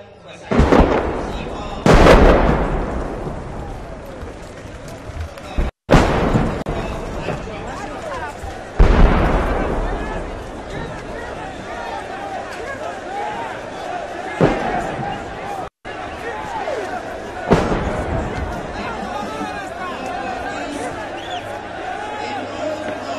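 Several heavy explosions boom a few seconds apart during a presidential swearing-in in Afghanistan, each followed by a rumbling echo, with crowd noise and voices continuing between them.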